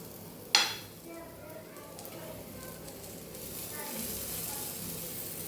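Rava besan chila batter with tomato and onion sizzles steadily on a hot griddle pan after a sharp clink of a utensil, a continuous frying hiss with faint scraping as it is spread, and a voice speaking now and then.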